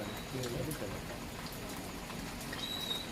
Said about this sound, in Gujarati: લગભગ વરસાદ ચાલુ થઈ ગયો